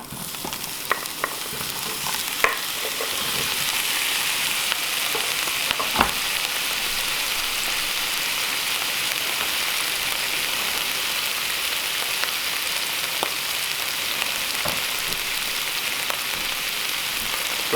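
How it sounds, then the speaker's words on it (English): Steady sizzling of pork frying in hot olive oil, a constant bright crackle with occasional sharp pops, close and continuous with no talking. "let's get some pork sizzling"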